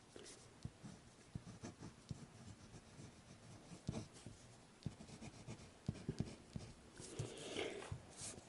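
A wet fountain pen nib writing on Rhodia Dot Grid paper, faint close-up scratching strokes with soft irregular ticks and taps as the pen moves and lifts.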